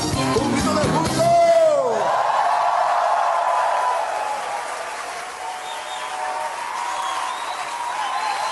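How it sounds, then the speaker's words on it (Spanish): A church congregation at an evening Bible study shouting for joy, a burst of crowd cheering and yelling that gives way to a softer, sustained murmur of voices in a reverberant hall. "Aleluya. Un grito de júbilo."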